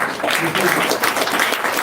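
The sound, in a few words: clapping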